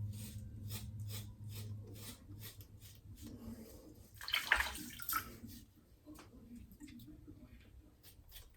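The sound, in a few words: razor buffing over shaving soap lather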